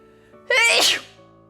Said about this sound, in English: have to sneeze